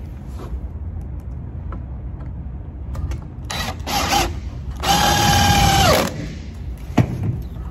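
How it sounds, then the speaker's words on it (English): Power drill driving a screw into a wooden tabletop tufting frame: a short motor whir, then a louder, steadier whine lasting about a second, over low workshop background noise with no talking. "you'll pull it back, and then you'll drill on it"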